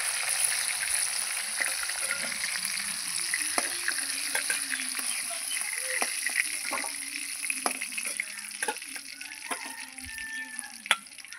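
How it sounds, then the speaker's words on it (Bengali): Fish fry in a pan, turned over until reddish-brown, giving a continuous soft sizzle dotted with sharp crackles and pops that grow busier toward the end, with no talk. "এই যে মাছগুলো উল্টে পাল্টে আমি ভেজে নিয়েছি লাল লাল করে।"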